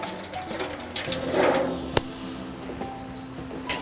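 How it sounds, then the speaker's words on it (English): Water is poured into a drip tray set between the coals of a salmon smoker, a soft splashing trickle that swells briefly, then fades under a steady outdoor background, with one sharp metallic tap. "place a drip tray between the coals and just pour a small amount of water"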